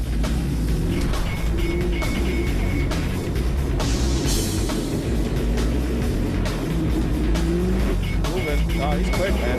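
A Chevrolet Camaro driving fast around a course, its engine noise loud and steady throughout with shifting pitch and a brief rush of tire or wind noise midway, while people talk over it.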